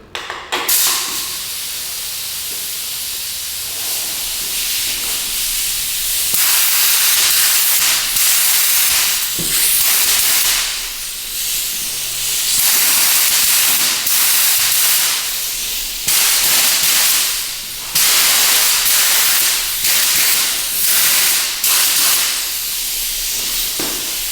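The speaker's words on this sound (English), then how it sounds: "Do a dust coat first with the sealer, make sure it's sticking" A sealer dust coat is sprayed onto finned valve covers in loud, close hissing bursts lasting several seconds each, separated by brief pauses.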